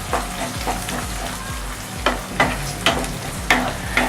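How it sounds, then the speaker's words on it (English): Julienne tomatoes stirred into frying mutton, with a constant crackling sizzle and a low rumble under repeated rhythmic spoon scrapes about every half second, close and fairly loud, no talk. "I'm going to add the julienne cut tomatoes and give it a mix"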